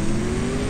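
A Koenigsegg Gemera in CSR2 at launch holds a steady, loud, droning engine rev, a brief sustained burst with no speech over it.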